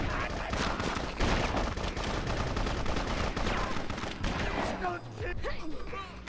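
Pistol gunfire from the Bloodrayne video game crackles in a dense, steady stream of loud shots, with a voice speaking over the action for much of the stretch.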